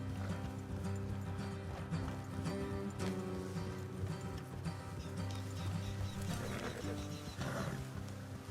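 Hooves clip-clop steadily over a dense bed of music and ambient noise, fairly quiet in the mix, from horses in Red Dead Redemption 2.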